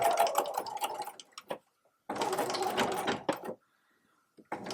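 A Bernina 880 sewing and embroidery machine stitching in two steady whirring runs, separated by a short quiet pause, with a third run starting at the end; close and alone, with no talking.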